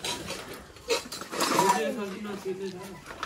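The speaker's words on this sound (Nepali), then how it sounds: "यहाँ भाँडाकुडा छ कि" Dishes and pots clink and clatter in short bursts while people talk nearby.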